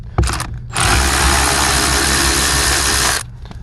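A power driver spins out an 8mm screw from the blower motor of a 2016 Honda HR-V, a brief click followed by a steady, close whirring run of about two and a half seconds that then stops.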